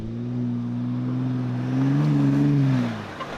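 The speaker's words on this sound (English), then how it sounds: "That's the sound of the 418 horsepower EcoBoost" A 2024 Ford Bronco Raptor's 3-liter EcoBoost V6 revving off-road, a steady low engine drone that swells in pitch midway before easing off, close and alone.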